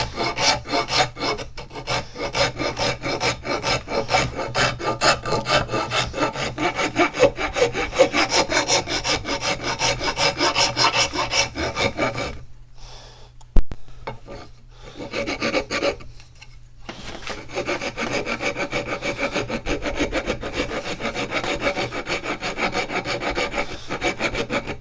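Coarse and then finer rasp strokes shaping the shoulder of a wooden handle to fit an old Plumb axe head, a steady run of close rhythmic scraping with brief pauses and one sharp knock midway.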